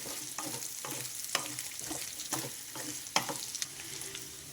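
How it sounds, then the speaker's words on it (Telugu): Pieces of mutton spleen (tilli) fry in hot oil with a soft, steady sizzle. Sharp scrapes and taps from a stirring utensil against the pan break in now and then. It is close and fairly quiet, with no talking. "ఆయిల్లో కొంచెం వేగనివ్వండి ఒక రెండు నిమిషాలు ఇలా వేయించుకోండి"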